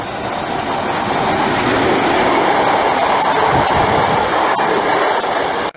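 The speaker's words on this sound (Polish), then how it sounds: "Z Polanicy Zdrój nadjeżdża pociąg tanich linii kolejowych TLK Kormoran." A TLK Kormoran passenger train pulls into the Otmuchów Jezioro railway stop, a loud, close, continuous rumble of wheels and carriages rolling past with rhythmic rail clatter that cuts off abruptly at the end.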